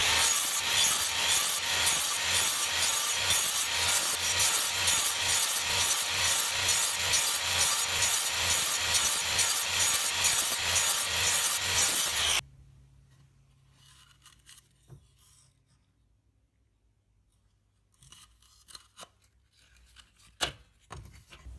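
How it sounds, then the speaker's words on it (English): A homemade belt sander runs against 2x4 timber, taking splinters off the wood: a loud, steady abrasive rasp with a rhythmic pulse that cuts off abruptly. Quieter handling knocks and taps follow. "I'm going to use my homemade belt sander just to take the worst of the splinters off these bits of wood."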